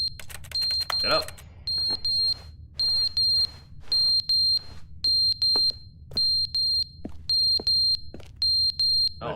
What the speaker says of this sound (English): Oh, that's the fire alarm going off.